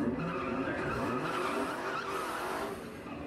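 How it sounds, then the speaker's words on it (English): A Dodge Hellcat Charger races a Nissan GTR, with tires squealing and engines roaring steadily in a sustained, moderately loud skidding wash heard from a distance. "Alright, we got a Hellcat Charger versus GTR."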